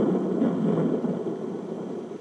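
A low, rumbling wash of steady noise like a distant thunderstorm from a Conair Sound Therapy SU4C clock radio noise machine, heavy and continuous, slightly fading toward the end with no voices.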